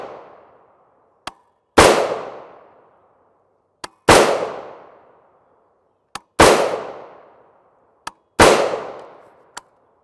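A rifle firing 5.56x45mm 55gr FMJ Stac-Tactical rounds: four loud, sharp reports spaced about two seconds apart, each ringing out and decaying, with small clicks between shots.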